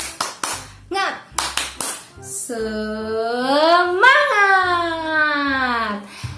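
Kindergarten children at a TK school clap in bursts of sharp, rhythmic claps, then an adult's voice calls out a drawn-out, sung word over the group chant, with more clapping bursts between, close and loud.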